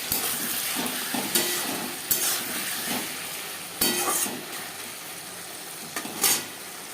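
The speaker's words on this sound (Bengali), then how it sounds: "তিন চার মিনিট মিডিয়াম টু লো ফ্লেমে মশলা কষিয়ে নেব" Spices with ginger paste and green chili paste frying in a pan over medium-low flame, a close steady sizzle broken by several sharp spatula scrapes and knocks against the pan, no talking.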